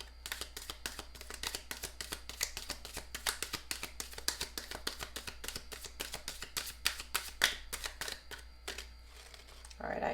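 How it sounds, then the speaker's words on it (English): A deck of tarot cards being shuffled by hand, a rapid run of dense crisp riffling clicks and taps close by that continues steadily with small flurries, over a faint low hum. "Let's do one more shuffle and see if we have anything else."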